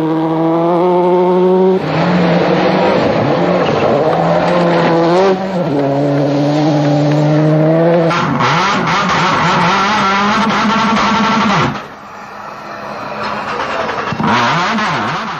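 Mitsubishi Lancer rally car at Rally Mexico 2004, a loud, close engine revving hard through repeated gear changes, pitch climbing and dropping in stepped bursts with a brief lift near the end, no talk.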